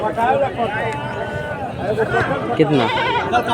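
Goats at a crowded livestock market in Garhwa, Jharkhand, bleat repeatedly amid constant chatter and the noise of people nearby, some calls wavering and nasal.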